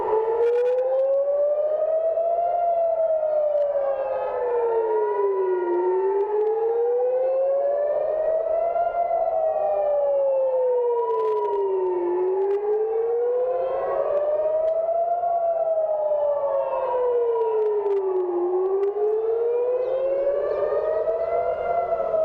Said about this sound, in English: this is the siren right now in the city center of Jerusalem